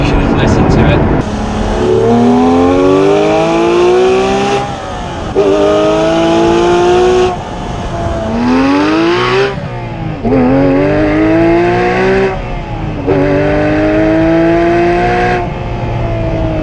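A Porsche 997 GT3 RS 4.0 with its 4-litre, 500-horsepower flat-six rises repeatedly through the revs while driving, each loud climbing sweep cut by a gear change, close and continuous throughout.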